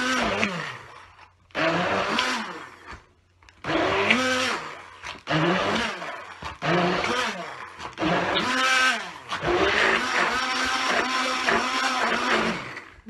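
A blender purees chickpeas into hummus, its motor whirring in repeated bursts of varying pitch as the mixture breaks down, loud and close, with short pauses between runs.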